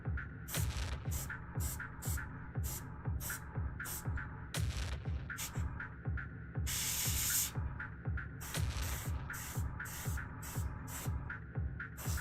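An airbrush sprays paint onto a miniature in a steady, faint hiss. A rapid pulsing chatter runs under it throughout, with a brief stronger spray burst near the middle.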